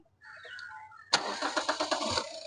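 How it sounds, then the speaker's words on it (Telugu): Diesel engine of a 2015 Toyota Etios VXD with about 90,000 km, starting on the first crank: a quiet lead-in, then a sudden loud catch into a rough, pulsing clatter that settles toward idle, close by. "సింగిల్ సెల్ఫ్ అయితే బండి అయితే స్టార్ట్ అవడం జరుగుతుంది"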